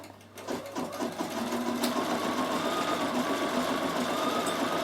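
A Bernina 7 series sewing machine with its embroidery unit stitches a design, starting with a few slow separate stitches, then settling into a fast, steady mechanical whirr close by.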